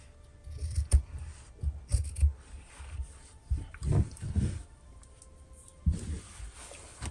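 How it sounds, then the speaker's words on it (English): Scissors trim the excess zipper tape while a fabric bag is being sewn, giving a series of short, crisp snips close by, spaced irregularly with quiet pauses between. "I'm gonna go and cut the extra, the zipper."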